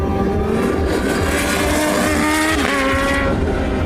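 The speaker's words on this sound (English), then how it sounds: "A 1000cc supercharged inline-4 with 200 PS and 101 foot-pounds of torque" A Kawasaki Z H2 supercharged 1000cc inline-4 motorcycle engine roars steadily at high revs, a loud continuous drone with shifting pitch throughout.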